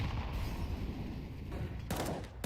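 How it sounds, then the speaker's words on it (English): Counter-Strike gunfire shot through a smoke grenade cloud during a high-level match, a dense rumbling of shots with a few sharper cracks toward the end. "now he's taking pop shots"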